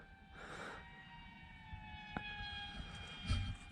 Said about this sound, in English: it's making that noise, which is a jet engine?